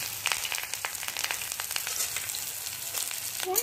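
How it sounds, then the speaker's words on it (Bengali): Garlic, chopped curry leaves, cashews and green chillies fry in hot oil in a pan, giving a steady close sizzle with crackling pops throughout and a brief sharper spit near the end. "এগুলো হালকা লাল লাল করে ভেজে নিয়েই আমি সুজিটা দিয়ে দেবো।"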